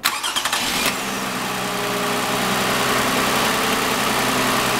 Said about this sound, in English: Now when we start the motor, it's gonna go up.